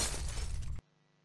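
Glass shatters in the firefighter video game Real Heroes: Firefighter during a training mission, a loud close crash lasting under a second that cuts off abruptly to near silence.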